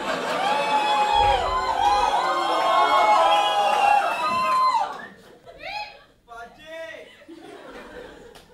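Comedy-show audience cheering and shouting loudly for several seconds, a dense crowd roar with whoops and high voices, which then drops away into a few scattered laughs and calls.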